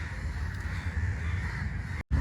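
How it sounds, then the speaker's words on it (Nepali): Crows caw continuously from a tree in a garden, several birds overlapping in a dense, steady chorus close by, with a brief dropout near the end. "कागको ब्याकग्राउन्ड म्युजिकले नै ढाकेको छ नि"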